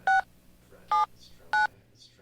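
Three short, clean touch-tone beeps are keyed into a telephone at an even pace, close and loud against a quiet background.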